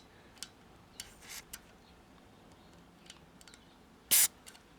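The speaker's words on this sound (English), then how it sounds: "I'm going to give a little squirt spritz to all of these" Faint spritzes of spray land on the tubes inside an open 1969 Zenith 15-inch all-metal color tube television, a few soft short hisses followed by one louder, close burst, with light ticks between them.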